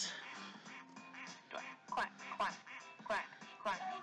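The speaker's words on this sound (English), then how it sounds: "No, there's ducks" Ducks in a Roblox game quack in a quick series of short nasal honks, the loudest coming in a cluster toward the end, mixed with constant game sounds and a voice speaking underneath.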